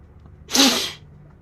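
A single loud, close sneeze bursts out on its own, a sharp airy blast lasting about half a second before fading back to quiet.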